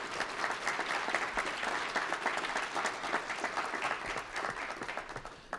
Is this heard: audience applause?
yes